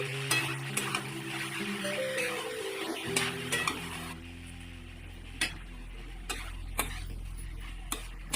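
Vegetables being stirred in a pan with sugar and green chilies: a low, steady background hum gives way to scattered, irregular clinks and scrapes of the utensil against the pan.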